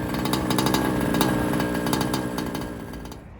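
A large-scale RC 5T car's small gas engine runs loudly and close at Callahan Speedway during an outlaw race, a steady buzzing two-stroke drone like a weed whacker or chainsaw, easing slightly toward the end.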